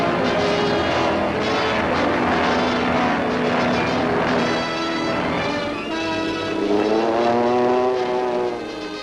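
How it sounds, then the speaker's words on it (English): Several WWII propeller warplanes run up their engines before a takeoff in wind and rain, a loud continuous droning roar with shifting pitch, close and steady, from an old newsreel soundtrack. "Planes warm up for a hazardous takeoff through wind and rain."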